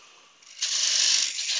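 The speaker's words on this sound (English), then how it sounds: "The lathe is running around about 15/80." A wood lathe spins during spindle turning, giving a steady, close hiss that starts quietly and then swells into a brighter, louder rush as the tool bites. It holds a continuous texture with no talk.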